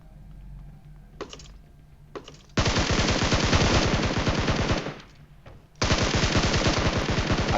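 Rapid automatic gunfire in PUBG Mobile, two long loud bursts of fast, evenly spaced shots with a pause between, after a couple of single shots, heard alone without talk.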